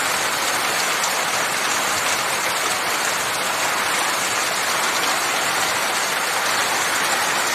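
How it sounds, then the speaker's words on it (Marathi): Heavy rain pours down in a dense, steady hiss, loud and unbroken throughout. "अचानकच एकदम धाडधाड करत मोठा पाऊस आला."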